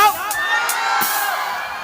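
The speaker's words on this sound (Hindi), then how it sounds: "अरे यार जोर से हल्ला मचाओ" An audience at a live stage show shouts, whoops and cheers continuously, a dense crowd roar with some high yells rising above it.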